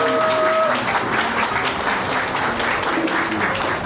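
Guests at a Christian wedding break into steady, fairly loud applause from a crowd of many hands, sustained throughout with a brief voice or tone audible near the start.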